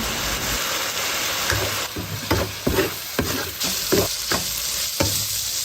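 Minced pork stir-fried in a wok with soybean paste, light and dark soy sauce, spices and salt, a steady sizzle broken by repeated scraping strokes of the spatula at an even rhythm, close and fairly loud with no talking.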